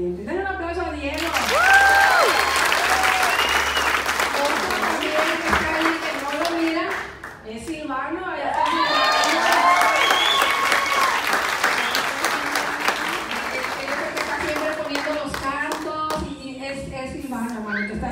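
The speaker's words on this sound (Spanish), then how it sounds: "Denle un aplauso a Diego." Church congregation applauds during a Spanish-language worship service, sustained loud clapping with cheers and voices mixed in, dipping briefly midway before swelling again and continuing, while singing or musical tones ring over the crowd.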